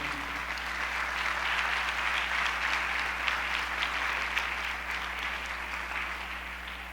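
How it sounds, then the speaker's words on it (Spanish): Church congregation applauding during a Spanish-language sermon, a dense, even wash of clapping lasting several seconds over a steady low hum, with no voices on top. "Dale un aplauso al Señor"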